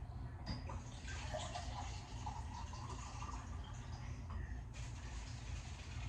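Water poured steadily into a cooking pot while cabbage is prepared, a continuous close rushing splash that lasts throughout without pause.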